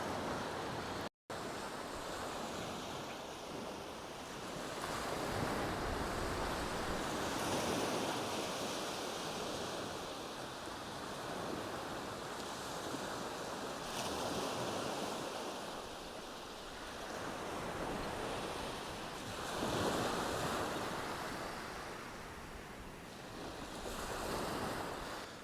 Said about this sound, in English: it is quite a pleasant beach